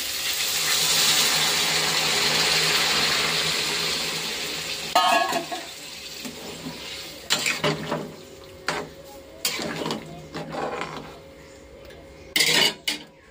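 Hot water poured into a pan of frying masala for a paneer curry hits with a broad rushing hiss for several seconds, then settles into intermittent clanks and scrapes of a spoon against the pan.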